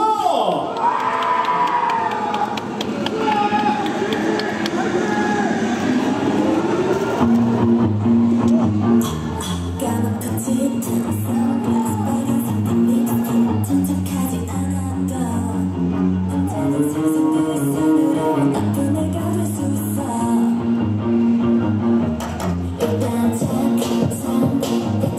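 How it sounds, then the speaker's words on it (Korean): Crowd cheering and shouting at a K-pop girl group's outdoor booth performance during an auto show week, loud and continuous over backing music, with excited whoops rising from the audience. "함성이 조금 작은 것 같은데 다시 한번 박수 오세요"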